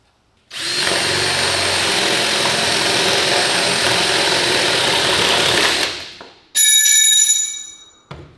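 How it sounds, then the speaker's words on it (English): A power drill bores a starter hole during a countertop installation, running as one loud, steady whine for about five seconds, then winding down, followed by a brief second burst. "use a drill and drill through a hole that I can stick the bit through to start"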